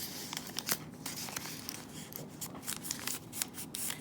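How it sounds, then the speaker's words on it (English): Origami paper crinkles and rustles close up as it is folded, with quick soft creasing swishes and scrapes repeating at a quiet level. "I'm gonna fold up the bottom part. So I'm folding it up, and then I'm gonna fold it shut"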